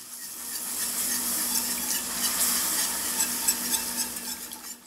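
A whisk works through a roux in a pan while milk is slowly added for a beefy green chile cheese dip, giving a busy, hissing scrape and soft sizzle, close and continuous with rhythmic swishes.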